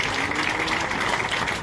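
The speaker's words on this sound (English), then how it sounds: "Give them a big round of applause." Dense, steady applause from a crowd of supporters at a press conference in Busoga, a continuous wash of many hands clapping at even loudness with no voices.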